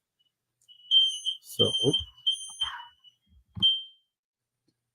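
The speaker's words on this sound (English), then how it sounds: "Fire alarm going off" A smoke alarm in a house sounds a piercing steady high tone in repeated bursts, with someone speaking over it.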